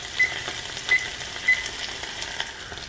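Chicken wings cooking on a small electric Dash Mini Grill give off a soft, steady sizzle, with a few brief clicks or taps spaced about evenly through the clip.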